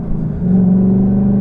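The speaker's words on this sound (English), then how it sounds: "Listen to that engine, man." A Ford Mustang GT with its 5.0 engine idles and then revs to a steady, loud, droning hum, heard close from inside the car with no talk.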